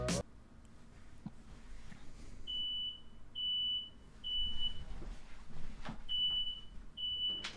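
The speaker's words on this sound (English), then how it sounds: "my smoke detector went off, and it was beeping very loud" A home smoke detector sounds a series of loud, high electronic beeps, about five evenly spaced chirps, over faint room noise with a few sharp knocks and clicks.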